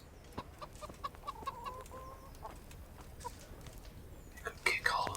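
Chickens cluck softly in a village in Kingdom Come: Deliverance, scattered short clucks over a faint ambient bed, with a brighter burst near the end.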